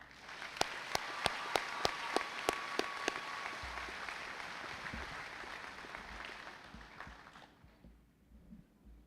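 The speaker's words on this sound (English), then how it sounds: "Please give them your applause." An audience at a 2024 graduation ceremony applauds the senior class officers: a few loud, distinct near claps ring out first, then a dense wash of crowd clapping that gradually fades away toward silence.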